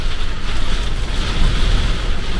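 Heavy rain and hard wind gusts of about 74 km/h batter a parked campervan in the Netherlands, a continuous loud, rushing roar with low rumbling buffets throughout and no talking.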